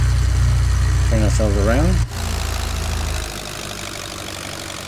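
A Nord 3202 propeller aircraft taxiing in Microsoft Flight Simulator, its engine a steady low drone beneath a voice. The drone dips after about two seconds and softens again a moment later.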